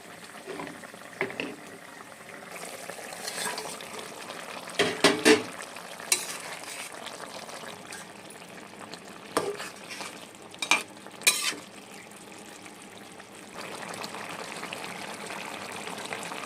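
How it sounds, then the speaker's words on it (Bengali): Fried khoira fish goes into a pan of simmering brinjal and potato curry and is stirred, with a steady sizzle and bubbling under repeated close clinks and scrapes of a metal spoon against the pan. "এর মধ্যে এখন ভেজে রাখা মাছগুলো দিয়ে দেবো"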